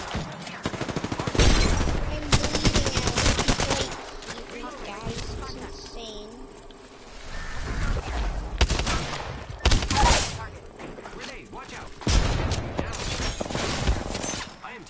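Bursts of automatic gunfire and scattered shots from a close-range firefight in Apex Legends, loud and repeated over about fifteen seconds, with voices talking over the shooting.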